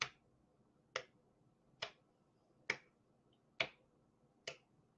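Six sharp, single hand claps come at an even pace, about one per second, during a hand-coordination exercise, each crisp and close in an otherwise quiet room.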